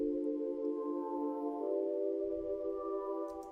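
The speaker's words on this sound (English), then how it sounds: "this is what the pad sounds like." A soft, sustained synth pad holds warm layered chords in an RnB sample that shift smoothly midway, steady and mellow with no other sounds.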